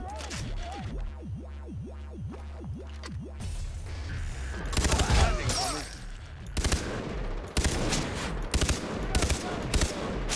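Gunfire in the co-op shooter game Far Cry 3: after a warbling electronic sweep, repeated loud bursts of automatic shots and heavy reports crackle through a dense, noisy battle scene.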